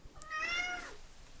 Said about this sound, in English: What are you meowing at me for?